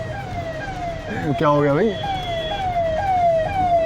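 An ambulance siren wails in repeated rising sweeps near a moving caravan on an Indian road, joined by a louder burst of honking, while someone inside speaks briefly over it.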